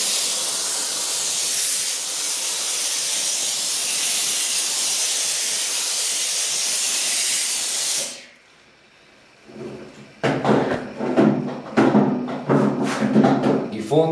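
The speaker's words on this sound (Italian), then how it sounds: "Sterilizzate i fondi di caffè con il vapore" Steam jets over coffee grounds to sterilize them for growing mushrooms in recycled bottles, a loud steady hiss for about eight seconds that cuts off abruptly, followed by quieter clattering and speech-like sounds.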